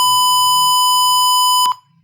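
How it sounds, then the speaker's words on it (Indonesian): An ESP32-driven buzzer sounding as an HC-SR04 ultrasonic sensor detects an object under 50 cm: one loud, sustained, pure electronic beep lasting most of two seconds before cutting off, with faint background murmur. "saat jaraknya itu di bawah 50 cm, maka suara buzzer akan menyala"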